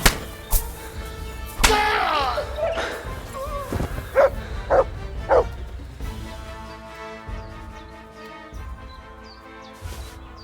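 A dog in the medieval world of Kingdom Come: Deliverance II barks in several sharp, close yips, with a few loud bursts clustered together amid game ambience, and someone speaks around them.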